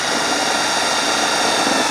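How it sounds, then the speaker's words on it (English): A 3/16 step bit drills through the roof of a 2021-or-later Ford F-150 SuperCrew, giving a continuous, close, high-pitched whirring grind for the full two seconds with no pauses. "We've got our 3/16 step bit. And now it's time to drill."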